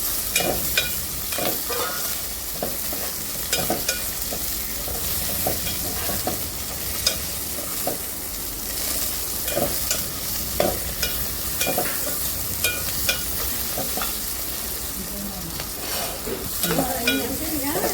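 Garlic cloves fry in a pan for a village-style gongura chutney, a continuous crackling sizzle with frequent sharp clicks and scrapes from stirring, close and fairly loud throughout.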